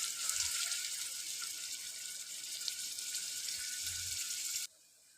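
Onions frying in a pan for a mutton curry: a steady, bright hiss of sizzling oil runs without pause, with a couple of faint low clunks beneath, then cuts off abruptly near the end.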